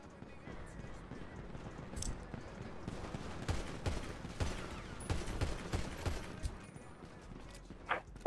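Dense bursts of rapid gunfire crackle through a GTA roleplay video game shootout, volleys overlapping and stuttering over several seconds at moderate distance, with faint voices in the background.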